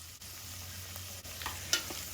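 Garlic stirred into onions and peppers frying in a pan for Lowcountry Hoppin' John, a quiet steady sizzle with a few scraping spoon strokes and a sharp clink near the end.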